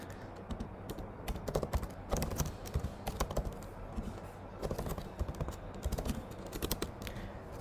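Keys clatter on a computer keyboard as a terminal command to connect to an AWS Lightsail instance is typed, in quick irregular bursts with short pauses, fairly quiet and close, no voice.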